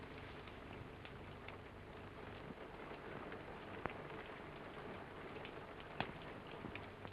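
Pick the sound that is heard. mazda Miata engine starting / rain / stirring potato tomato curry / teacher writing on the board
rain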